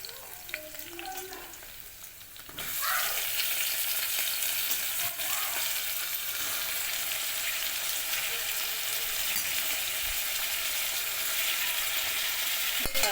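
Tomatoes drop into a pan with a sudden loud burst of sizzling, then fry in a steady close hiss among bitter gourd curry, with faint stirring underneath.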